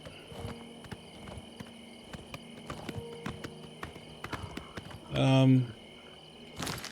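Sparse hoof clops of a horse in the video game Oblivion sound at an unhurried walking pace, with a brief loud burst of sound near the end against a quiet background.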